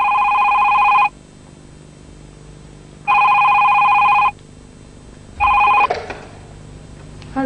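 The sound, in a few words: telephone ringing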